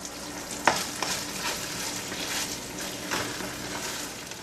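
Store-bought barbecue sauce cooking over low heat in a pan, giving a continuous soft crackling sizzle with a few sharper pops, steady and close.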